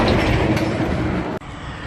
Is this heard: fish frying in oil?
no